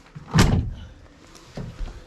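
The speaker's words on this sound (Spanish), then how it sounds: "Cierro puerta." A car door on an old Citroen DSpecial, a barn find in France, shuts with one loud, close thunk, followed by fainter knocks and rustles from inside the car.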